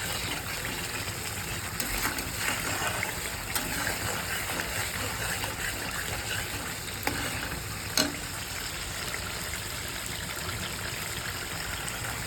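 Spice paste for a vegetarian chhana curry sizzles in oil in a pan, a steady, fairly faint crackle with occasional soft clicks of stirring throughout.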